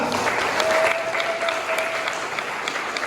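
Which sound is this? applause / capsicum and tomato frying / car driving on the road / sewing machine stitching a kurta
applause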